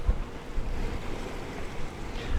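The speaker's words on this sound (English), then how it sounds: "Here's the inlet. It goes right out into the Atlantic Ocean right here." Atlantic Ocean waves at the Ocean City inlet wash and rumble steadily and close by, blended with boat-like engine noise and buffeting wind on the microphone, with no talk.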